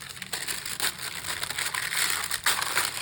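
Set caramel for loaded cookies is smashed to break it up, giving a run of loud, close cracking and crunching bursts with irregular sharp breaks.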